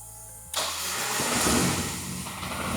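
A 1993 Ford Escort RS Cosworth, a rally car with a five-speed manual, cranks and catches after a quiet half second, then settles into a loud, steady, slightly rising idle close by.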